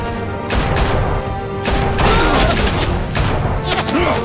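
Police guns open fire in Batman: The Telltale Series, a loud, continuous fusillade of rapid shots in several dense bursts, with shouting voices mixed in.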